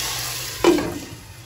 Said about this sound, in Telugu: ఇప్పుడు మనం పప్పులో వేసేసుకుందాం.